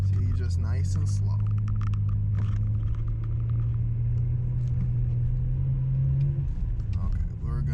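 A BMW 335i rear-wheel-drive car creeps away slowly on an icy, snowy road with traction control on, its engine a low steady rumble and hum, with a voice talking over it.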